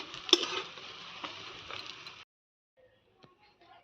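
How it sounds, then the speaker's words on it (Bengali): Gram flour (besan) fritters fry in hot oil with a soft, steady sizzle for about two seconds, then the sound stops, leaving near silence and a few faint clicks. "তো এই যে বড়াগুলো ভাজছি।"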